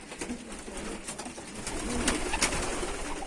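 Pigeons coo softly in low, rolling murmurs amid background rustle and noise.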